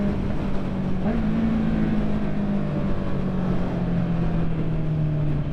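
A Honda CB650R motorcycle engine hums steadily while riding, a loud, continuous drone with a slowly falling pitch and constant wind rush, no talking.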